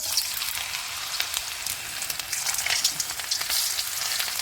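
Potato chip slices dropped into hot oil, frying with a steady crackling sizzle throughout, dense and close with irregular pops.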